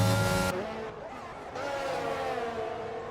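Race cars in the F1 2022 video game at the Mexico circuit, engines whining and shifting pitch as they run close together, with commentary voices over the top.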